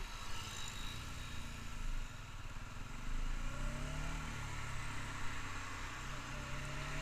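A new engine running in first gear during break-in gives a faint, steady hum that rises slightly partway through as the throttle changes.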